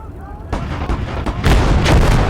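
Enemy artillery in the Gates of Hell war game fires and booms repeatedly, with loud overlapping blasts and rumbling impacts that build in intensity.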